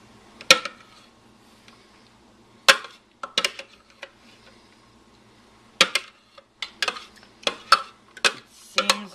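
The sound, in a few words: spooning grated carrots out of a food processor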